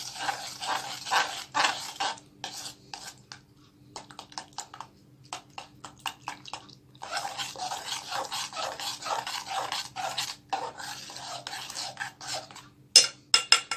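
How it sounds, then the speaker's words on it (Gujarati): Milk being stirred by hand with milk powder, sugar and cornflour for homemade strawberry ice cream, a steady scraping and rubbing of utensil against the pot in bursts and pauses, close and clear with no talk. "બરાબર મિક્સ કરશું"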